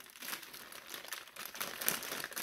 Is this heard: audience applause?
no